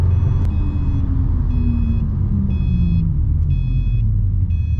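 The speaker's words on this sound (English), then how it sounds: "I don't know why it's beeping." A car's interior warning chime repeats in short, evenly spaced beeps over the steady low rumble of the running vehicle, heard from inside the cabin with no talking.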